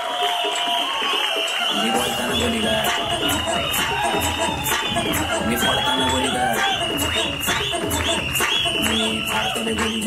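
An audience at a film trailer launch welcomes director Kedar Shinde, and after a brief quiet moment dense, steady clapping swells in, loud and continuous, with cheers and crowd noise mixed through it.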